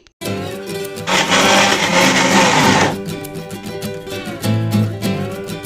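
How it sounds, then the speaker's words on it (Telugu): A mixer grinder blending minced mutton into a paste whirs loudly in a long burst, drops to a lower churning hum, then surges again, close and mechanical. "కీమాని ఇప్పుడు మిక్సీలో వేసుకొని మంచిగా ఫైన్గా పేస్ట్ చేసుకోవాలి"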